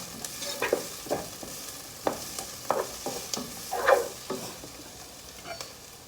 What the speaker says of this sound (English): Stir my onions.